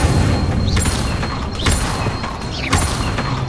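Incendio fire spell cast repeatedly in Hogwarts Legacy, with bursts of whooshing, crackling impacts landing about once a second over a dense, loud game soundscape.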